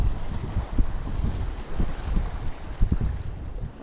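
Wind gusting across a shore fishing jetty on the Ventura County coast, a steady rough rush with low buffeting thumps against the microphone and surf faintly underneath, no talking.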